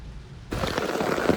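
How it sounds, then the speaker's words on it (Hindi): Very heavy rain pours down at a hill-station viewpoint in Mahabaleshwar during the monsoon, kicking in abruptly after a quieter start and then roaring as a dense, steady, close wash of drops. "बहुत ही तेज़ बारिश हो रही है"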